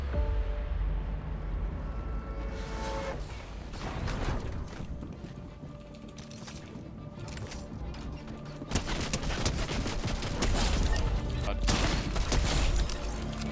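Gunfire in Fortnite, rapid bursts of shots and impacts under loud game noise, with a louder burst near the end.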